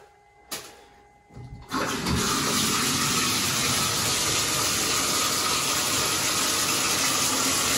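Water rushes loudly and steadily from an unclogged bathtub drain after a few brief knocks and clunks, the broadband flow continuing unbroken.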